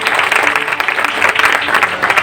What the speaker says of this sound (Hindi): एक जोरदार ताली सभी आप लोगों के लिए